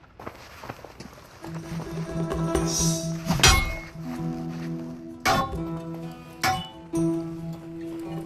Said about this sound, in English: Block the incoming strikes by holding your weapon to intercept them